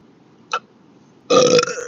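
A person burps twice: first a short, quick one, then after a pause a louder, longer rasping belch, close to the microphone in a quiet room.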